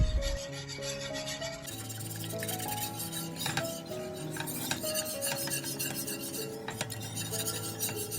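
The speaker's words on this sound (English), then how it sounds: "Add the custard milk mix and stir it. Mix it properly so there will be no lumps." A utensil stirs a custard and milk mixture in a pan to work out lumps, giving soft repeated scraping and rubbing with occasional light clinks, close and fairly quiet, with no talking.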